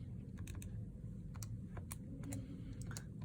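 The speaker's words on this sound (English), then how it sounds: "We're going to type that in our calculator." Quick soft clicks of calculator keys being pressed to enter numbers, an irregular series of taps heard close over a quiet room hum, without speech.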